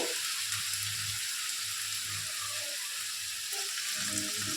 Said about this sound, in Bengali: এতেই আমি এইভাবেই মানে পুরো ভাজা ভাজা করব সুন্দর করে